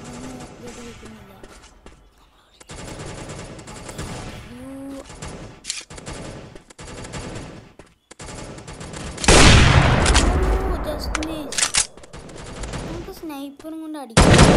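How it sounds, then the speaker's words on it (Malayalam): Sniper rifle shots ring out in a mask gun shooting game, sharp cracks and bursts scattered among game noise while a player talks over them. "അങ്ങനെ നമുക്ക് നമ്മുടെ സ്നൈപ്പർ എടുത്തിട്ട് പോയി അടിക്കാം"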